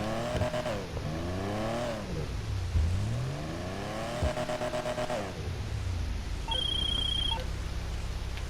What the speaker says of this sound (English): I love the sound of the exhaust makes too, the pop.